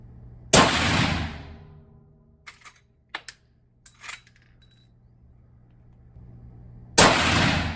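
A Marlin 1895 lever-action rifle in .45-70 fires 300-grain slugs at a 35-yard target, two loud sharp booms spaced several seconds apart, with clicks and clanks of lever cycling between them.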